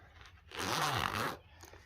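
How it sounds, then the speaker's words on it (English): A heavy-duty zipper on a canoe bag is pulled in one quick rasping stroke lasting under a second, close and clear, with a faint second tug just after. "Now this has got a really heavy duty zipper,"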